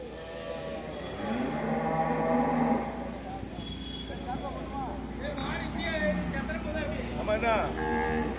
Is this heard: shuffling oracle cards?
no